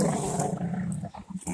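A low, rumbling dog growl at a tire string, close and sustained, fading into a few softer grumbles near the end.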